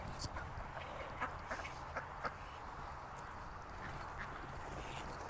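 Several call ducks quacking in short bursts on a farm, moderately close, over a steady background hiss; calls come in quick clusters, then fade.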